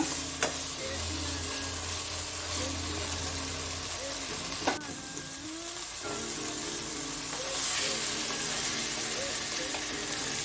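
Chicken with chilli flakes and cheese sizzles steadily in a pan, a continuous close frying hiss broken by occasional scrapes and knocks of stirring.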